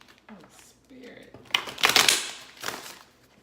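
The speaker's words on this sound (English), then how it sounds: "Oh my goodness, these cards. Let's try to shuffle this a little bit more." A deck of tarot cards is shuffled by hand, with soft riffling bursts that build to a louder flurry in the middle, then a final brief riffle. A low voice murmurs faintly at the start.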